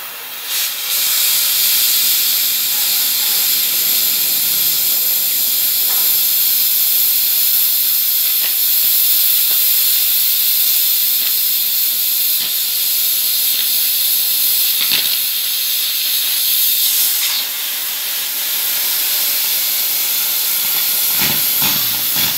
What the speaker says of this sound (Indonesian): Cara memotong WF besi, WF baja